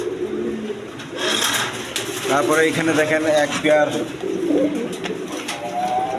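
Pigeons cooing in repeated soft, throaty phrases nearby while someone talks over them.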